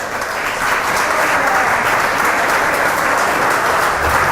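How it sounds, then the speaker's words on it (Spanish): Loud, sustained applause fills the hall as a church congregation at a convention in Medellín, Colombia claps together in a thick, even roar, with a few voices faintly mixed in. "Y un fuerte aplauso al Espíritu de Dios por eso."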